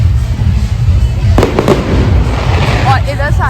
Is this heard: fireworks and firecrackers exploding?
yes